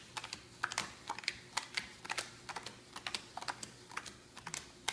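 Playing cards are dealt one at a time into four piles for the card game Clash of Warriors, making a quick, irregular series of soft, close flicking snaps, with no talking.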